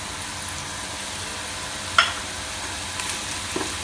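Onions and spices frying in a pan give a steady close sizzle, with a brief clink near the middle and a few soft stirring knocks toward the end, and no talking.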